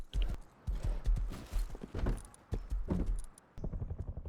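Horse hooves clip-clopping in the survival game Rust, a steady run of close, fairly loud hoof beats with a few short pauses, no talk.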